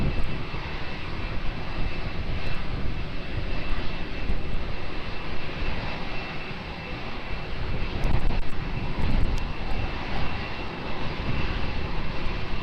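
An airliner roars on its landing at Lisbon Airport runway 20, a loud, sustained engine rumble that swells and dips over several seconds with no voices.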